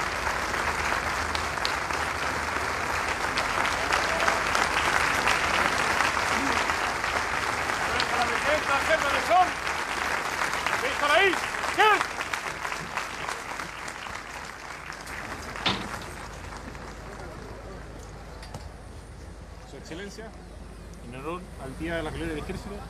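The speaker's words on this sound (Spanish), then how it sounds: "Escuchemos este aplauso." A crowd at a Chilean Army military parade applauds paratroopers in a broad, sustained wash of clapping that gradually thins out, and a voice is heard speaking near the end.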